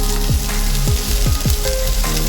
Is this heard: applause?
no